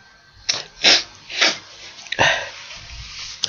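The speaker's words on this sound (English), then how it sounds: "just one moment, I'm going to sneeze." A man sneezes during a Bible lesson, with a few sharp bursts and snorting breaths in quick succession, close and fairly loud.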